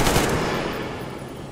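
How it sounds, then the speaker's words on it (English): A short, loud burst of rapid gunfire from the video game Metro Exodus, a dense close rattle fading slightly over about a second and a half. "Who are you shooting at?"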